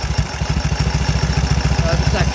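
A 1934 Indian Standard Scout motorcycle engine chugs at idle right after starting, with a loud, steady, rapid low thump and some mechanical clatter close by.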